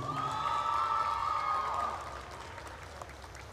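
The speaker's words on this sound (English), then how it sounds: "And a big hand one more time for the cheer seniors" A crowd at a Courtland vs Culpeper boys high school basketball game applauds and cheers for the cheer seniors, a loud burst of clapping that fades after a couple of seconds.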